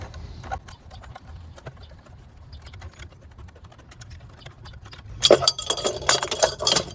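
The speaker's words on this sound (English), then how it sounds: "to disassemble our pump, we're simply gonna take this band clamp and unthread it" A band clamp on a pool pump is unthreaded by hand, giving a run of light metallic clicks and ticks that build into a louder, denser clinking and rattling burst near the end, close and without talk.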